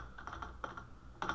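Quick keystrokes on a computer keyboard, a short run of soft taps and clicks in a quiet room.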